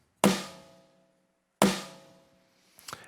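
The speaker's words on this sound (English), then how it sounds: "Then you can take your snare drum sound like this," Two sharp snare drum hits from a Yamaha DTX-PRO electronic drum module ring out about a second apart, each decaying over a moment, followed by a softer flurry of quick taps.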